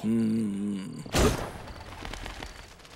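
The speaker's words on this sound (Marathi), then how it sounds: "अरे कुठून गोळी झाडल्याचा आवाज आलाय." A single loud gunshot cracks out after a sustained tonal sound, followed by a decaying, rumbling tail.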